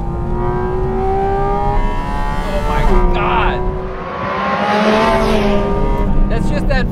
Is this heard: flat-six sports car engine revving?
yes